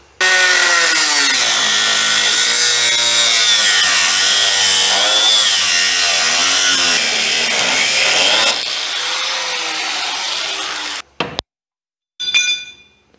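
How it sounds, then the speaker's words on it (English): A cut-off wheel grinds through rivets on a 1940 Chevy coupe, a loud continuous abrasive whine with wavering pitch for about eleven seconds before cutting out, followed by a short clinking burst. "I'm gonna get the old cut-off wheel and go zippa and zappa"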